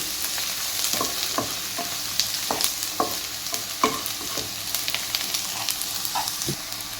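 Masala for spicy garlic roast chicken fries in a pan with a steady close sizzle, while a utensil stirs and scrapes through it in scattered clinks and knocks.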